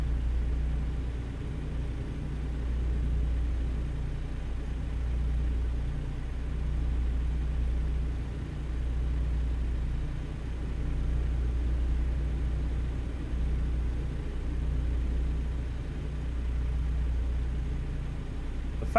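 Steady low engine rumble of trucks on the road in American Truck Simulator, a continuous drone with gentle swells as another truck passes, no talking.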